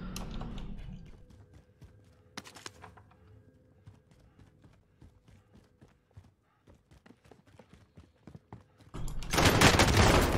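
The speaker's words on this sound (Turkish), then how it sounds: "Abi neyle Uzi ile sıktı?" Rapid Uzi fire in the Call of Duty: Warzone video game, heard as a dense rattle of sharp clicks and shots through most of the stretch, with a loud, roaring burst of noise at the very end; no speech.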